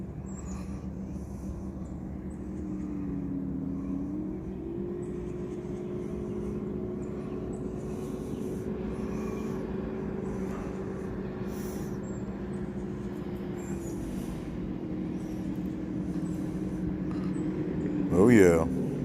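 Racing boats on Lake Apopka approaching from a distance, a steady droning engine hum that holds for a long stretch and swells slightly near the end, with a louder sudden sound at the close.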